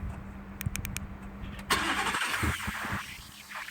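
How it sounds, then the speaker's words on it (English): A 2018 Ford F-150 Platinum V8 is remote-started: a few quick clicks, then the engine cranks and catches with a sharp rise in rumble before settling into a steady idle, heard close up. "Who doesn't love the sound of a V8?"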